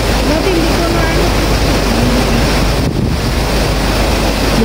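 Strong floodwater rushing across a road during a typhoon, a steady loud roar of churning water with heavy wind buffeting the microphone throughout.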